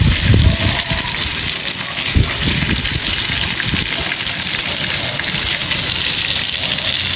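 Stuffed bangda (mackerel) frying in a pan gives a loud, steady, close sizzle with crackling and bubbling that continues without a break.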